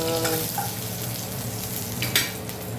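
Garlic sizzles and fries in hot oil in a pan, a constant crackling hiss with a few sharper spatters and a brief stirring clatter near the end.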